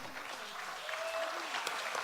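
A round of applause rises from the audience at an awards ceremony honoring volunteers, steady continuous clapping at moderate loudness throughout.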